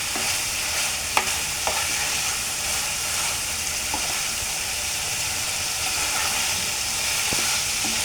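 Chicken liver bhuna frying in a pan, a dense continuous sizzle and hiss with a few faint clicks of a spoon against the pan.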